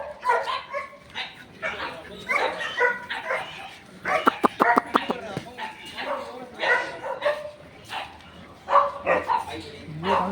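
Several dogs at an animal park in Pondicherry bark and yip in short bursts, some whimpering, close by and loud, while people talk over and between the barks.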